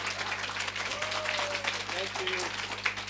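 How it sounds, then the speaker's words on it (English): Quiet, fairly distant applause from an audience thanking the designer Colin Seah after his talk, a soft continuous patter of clapping with a few faint whistled or sung tones mixed in. "big round of applause for Colin Seah"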